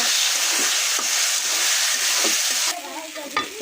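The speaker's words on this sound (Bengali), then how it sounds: "কচুগুলো তেলের মধ্যে ভাজে নিব।" Taro leaves frying in hot oil for a mashed taro-leaf bhorta, a loud steady sizzle and hiss close by with occasional stirring scrapes, easing a little near the end.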